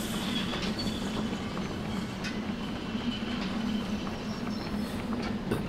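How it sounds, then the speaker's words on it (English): Steam locomotive in the VR game Derail Valley rolling along, a steady low rumbling drone with faint rail clatter throughout, continuous and fairly loud with no talking. "Another steam train, makes sense."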